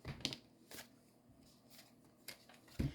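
Tarot cards shuffled by hand in a few short riffling bursts, spaced out across a quiet stretch, with no talking.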